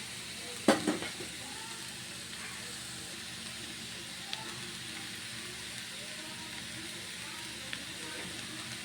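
Cooked rice stirred into prawn fried rice in a hot pan, a soft steady sizzle with a sharp clatter of spoon against the pan near the start and a couple of faint scrapes later.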